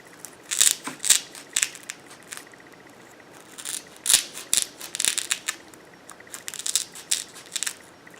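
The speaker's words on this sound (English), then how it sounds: "we're going to take our styrofoam and just cut it into little pieces" Scissors snip through styrofoam in a quiet room, a series of crisp crunching cuts coming in irregular bursts, close and alone.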